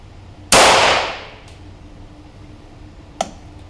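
A single sharp .22LR rifle shot cracks from a Feinwerkbau AW93 and rings away over about half a second, followed later by a faint metallic click, alone with no talking.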